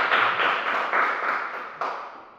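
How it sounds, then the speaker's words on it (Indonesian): A classroom audience claps for a student group, giving a short, fairly steady burst of applause with a few louder slaps and no talking. "tepuk tangan untuk kelompok 2"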